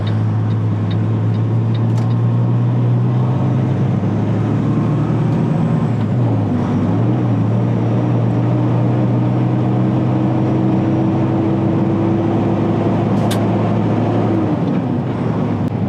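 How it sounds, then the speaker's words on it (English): Steady road traffic heard from inside a car merging onto a busy Nashville highway: a continuous low engine and tyre drone with shifting tones as the car moves, no voices. "Now we're merging with another stream of traffic."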